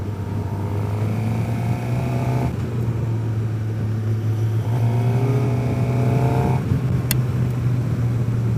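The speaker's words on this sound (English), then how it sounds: "I forgot what it was like riding an inline four." A Suzuki GSXR750 inline-four motorcycle rides along, its engine holding a loud, steady drone that rises in pitch as it accelerates, dips through a gear change, then climbs again.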